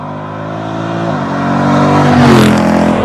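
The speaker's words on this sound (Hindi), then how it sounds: "वो एग्जॉस्ट नोट सुनना, एक्सेलरेट करना गाड़ी, it's always so much fun." A 2024 Dodge Durango 392 SRT V8 accelerates on a road. Its exhaust note builds from a steady drone into a louder, rising roar that peaks near the end, close and loud with no talking.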